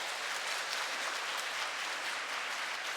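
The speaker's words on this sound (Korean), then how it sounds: "박수 부탁드립니다." Sustained audience applause after a Catholic priest's Old Testament introductory lecture, steady dense clapping from a room full of listeners, filling the whole moment without speech.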